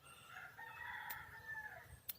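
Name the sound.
rooster crowing on a poultry farm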